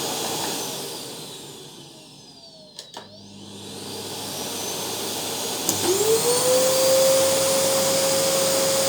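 A Philips FC9750 PowerPro Max vacuum cleaner motor starts up partway through on its maximum setting, its whine quickly rising in pitch and then holding steady and loud.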